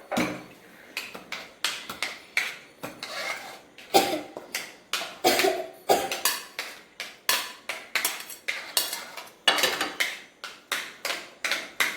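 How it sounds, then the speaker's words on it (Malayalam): Chopped chicken stirred into a shawarma mixture in a bowl, a brisk run of repeated knocking and scraping strokes from a utensil against the container, close and fairly loud, in an uneven rhythm with no talking. "നമുക്ക് ഇനി ചിക്കൻ ഇതിനകത്തോട്ട് മിക്സ് ചെയ്ത് കൊടുക്കാം"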